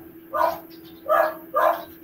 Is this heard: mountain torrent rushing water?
no